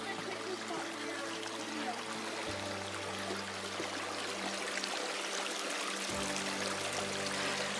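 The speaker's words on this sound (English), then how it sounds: "we are now crossing Christopher Creek" Christopher Creek flowing along the See Canyon Trail in Arizona, a steady broadband rush of running water that stays loud and close throughout, with a low hum shifting in the background.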